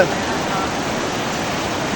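River water rushes steadily and loudly in the remote Kaknai area of Champawat, a dense, even wash of broadband noise with no break.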